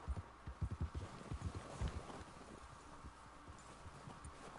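A horse's hooves clip-clop on ground in Red Dead Redemption 2, a quick run of close, distinct beats that fades to a quieter ambient background.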